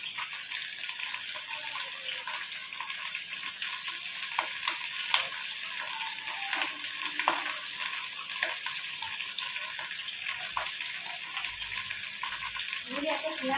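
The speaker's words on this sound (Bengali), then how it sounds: "আমি ডালগুলোকে দিয়ে দিলাম এতে" Mung and arhar dal go into a hot pot for a home lunch, giving a steady hiss and sizzle with scattered clinks and stirring scrapes, and muffled voices faint in the background.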